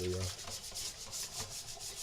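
Dishes scrubbed by hand with detergent while washing up, quick rhythmic rubbing strokes repeating several times a second, close and fairly quiet.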